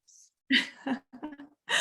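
A single short sneeze bursts out abruptly at close range, with brief breathy sounds around it and no other voices.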